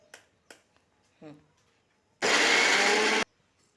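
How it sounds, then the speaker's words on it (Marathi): A few light clicks and taps lead into a loud, steady whirring burst from a mixer grinder grinding onion and garlic, lasting about a second before stopping abruptly. "मिक्सरच्या भांड्यामध्ये कांदा घातला आहे थोडासा लसूण मिक्सरला आपण फिरवून घेणार आहोत"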